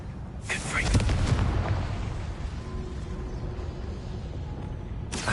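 A Confringo blasting spell in Hogwarts Legacy, heard as a heavy booming burst that swells and rolls away under a fiery rumble, with a sharp crackling flare at the start and end.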